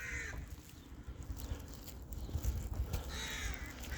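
A crow caws several times at a distance outdoors. The harsh calls come over a low background rumble, and nobody speaks.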